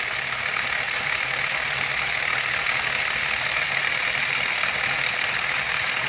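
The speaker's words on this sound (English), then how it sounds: "It is loud, but it runs really well. And my friend calls this the solenoid motor." A loud 3D-printed solenoid motor runs steadily throughout, a continuous dense buzzing mechanical drone with no pauses or talk.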